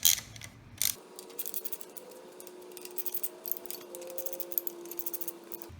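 A ratchet clicks in quick, uneven bursts while the variator bolts are tightened on a Lamborghini Murcielago engine during cam timing work, a faint ringing tone persisting under the close metallic ticks.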